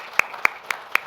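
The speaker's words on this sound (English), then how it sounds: "I'll give you a round of applause." Four separate hand claps spaced evenly, sharp and fairly close, from a presenter or small audience thanking an agricultural pest and disease speaker at a conference, with no voices between them.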